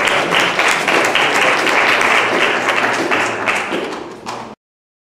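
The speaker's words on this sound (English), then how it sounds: "I think we're going to need another round of applause" Audience applause at a 9/11 remembrance panel discussion at Mars Hill University, a dense, steady burst of many hands clapping close by for about four and a half seconds before cutting off abruptly.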